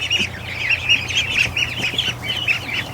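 Ducks in a duck barn give repeated nasal calls in an uneven rhythm, fairly close and steady, over a low background hum.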